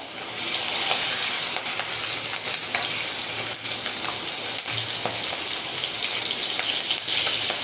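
Green chillies sizzle loudly in hot oil for a Gujarati spring onion dish, a dense, crackling fry with stirring scrapes, close and unbroken throughout.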